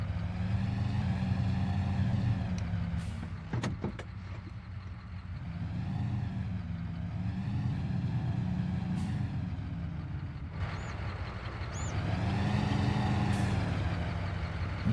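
A truck backs a livestock trailer toward a fence on a farm in Farming Simulator 22. A low, steady diesel engine rumble rises and falls as it maneuvers, with a few short hisses and clicks along the way.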